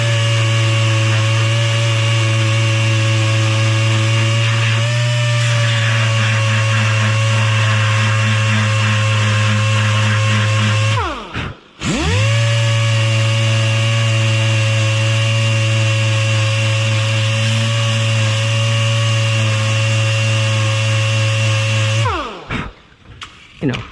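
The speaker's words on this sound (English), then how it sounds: "I just use an 80 grit on a DA, and then what it'll do, here, kind of feather it out like that." A DA sander with 80-grit paper works a car quarter panel, giving a loud, steady motor hum with a constant tone that cuts off twice, briefly and then at the end.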